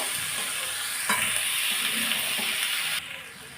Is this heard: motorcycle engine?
no